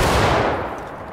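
A rifle volley in a multiplayer skirmish game, one dense roaring crack of many shots together that rolls off into a fading echo.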